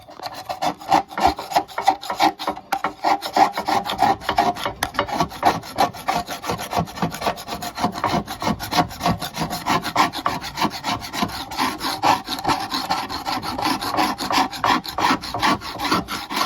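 Old finish and built-up muck are scrubbed and stripped off a car bumper in a continuous, rhythmic rasping and rubbing of quick strokes, close by and steady throughout, with no voices.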